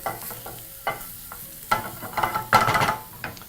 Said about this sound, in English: continue to cook the garlic until it's nicely golden brown